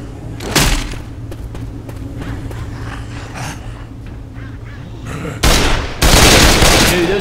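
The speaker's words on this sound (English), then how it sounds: "Why would you think shooting me is a good idea?" Left 4 Dead 2 gunfire, with a sharp shot early on and then heavy, loud bursts of firing near the end over a rumbling game background, and no speech.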